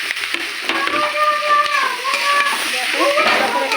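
Onions, ivy gourd and fried potato stirred and frying in a pan, with a soft sizzle and scraping of the spatula. Occasional squeaky tones sound through it at moderate loudness.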